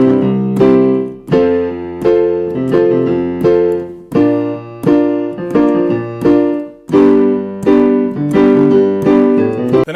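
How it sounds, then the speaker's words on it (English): Jazz piano pop groove with steady quarter-note chords in the right hand over a bouncing octave-and-fifth bass line, played solo, close and full, in even repeated phrases. "I'm going to play quarter notes in the right hand, and then I'm going to play a bass line that uses the octave and the fifth"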